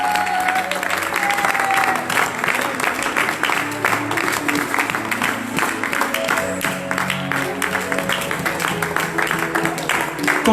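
Sustained applause from a church congregation acclaiming Jesus, many hands clapping in a dense, even wash, with voices and music faintly underneath throughout.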